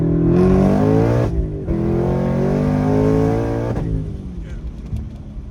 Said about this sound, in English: Speaking of ripping it, another first gear hit.